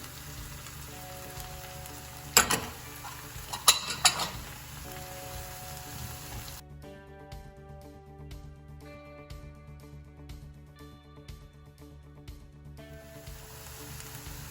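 Onions sizzle in a pan as they soften for stuffed mushrooms: a steady, soft frying hiss with a few louder clatters early on, then continuing quietly beneath background music.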